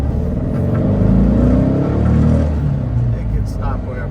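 A 1963 Porsche 356B 1600S coupe on winding back roads, its engine droning loudly and steadily from inside the cabin, with people talking over the rumble.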